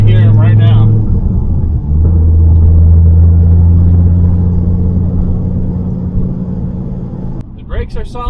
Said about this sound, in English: Now I'm just driving on some backcountry farm roads, so it is a little bumpy